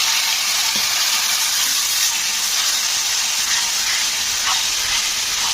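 Turmeric powder and a splash of water hitting hot oil with ginger-garlic paste for a potato curry, a loud, dense, steady hiss and sizzle close up, with no talk.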